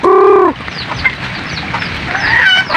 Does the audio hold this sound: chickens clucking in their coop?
yes